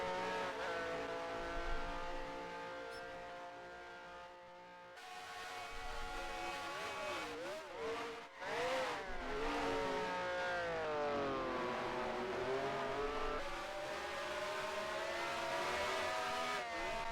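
A Brabham race car engine in a racing simulator screams loudly through rising and falling revs, with gear changes, brief lifts and surging acceleration that continue throughout without speech.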